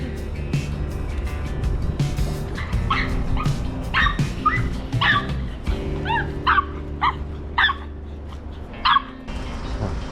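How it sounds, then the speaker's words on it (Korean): A Maltese dog barks repeatedly at people passing on a walk, sharp close yips and barks in quick series over steady outdoor background noise. "지금처럼 사람을 만나면 사람이 사라질 때까지 계속 짖었어요"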